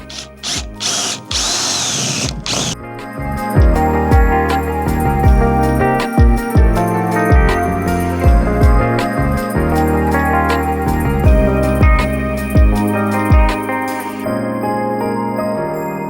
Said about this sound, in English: I'm ready to drill a hole in the van.